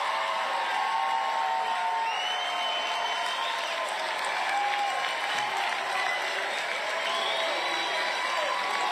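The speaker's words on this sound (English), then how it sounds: "Standing ovation." Sustained applause and cheering from a large crowd giving a standing ovation at a Donald Trump 2024 campaign rally in New Hampshire, a dense steady roar of clapping with scattered whoops and murmuring voices.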